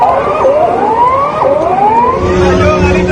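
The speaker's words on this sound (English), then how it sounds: "Tsunami sirens were heard in Ecuador" Loud wailing tsunami warning sirens in Ecuador rise and fall in repeated sweeping cycles, two overlapping, constant and close over a steady background rumble.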